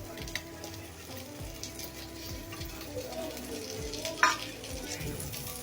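Onions and green chillies fry in oil in a pan, with a quiet, even sizzle and soft stirring strokes scraping at intervals.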